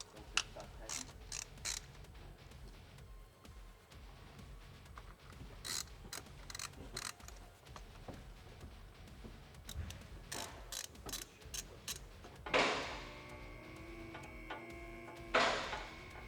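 Ratchet loosening E-Torx bolts around the pan of a Z1 9-speed automatic transmission, with intermittent close metallic clicking and ticking spread across the stretch, plus a couple of louder scraping bursts near the end.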